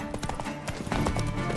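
Roach the horse's hooves clip-clop in a steady trotting rhythm in The Witcher 3: Wild Hunt, moderately loud and close, blended with game music and ambience.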